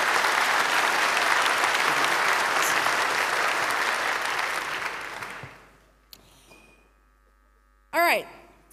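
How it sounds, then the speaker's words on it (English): Applause from a conference audience at a security talk, a dense steady wash of clapping for about five seconds that fades out, followed by a few stray sounds and a short burst of speech at the end. "give them a huge round of applause."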